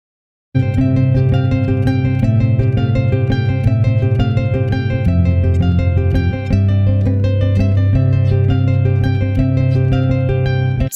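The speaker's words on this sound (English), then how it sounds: "what you heard there was you heard a little rhythm." Plucked harp notes repeating in a steady, bouncing rhythm with low notes shifting underneath, clear and close, played alone without voices.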